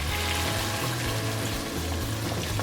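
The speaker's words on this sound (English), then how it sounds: "So the way we're gonna do that is by adding a touch of water." Water poured into a simmering chicken korma pan, a loud continuous rush and bubbling hiss up close that holds steady throughout, with no one speaking.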